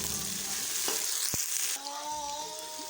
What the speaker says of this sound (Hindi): लहसुन को हम 2 से 3 मिनट के लिए फ्राई कर लेंगे।